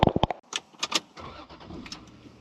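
A high-mileage 2002 Lexus IS300 sedan with nearly 250,000 miles cranks and fires up, with a few sharp clicks and thumps leading into a short whir and a settling engine hum, heard fairly close.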